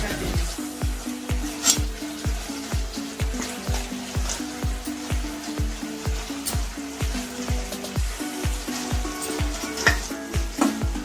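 Chicken satay pieces stir-fried in a soy sauce mixture, with a steady sizzle under a regular rhythm of spatula scrapes and pan knocks repeating roughly every half second throughout, close and fairly loud, no voices.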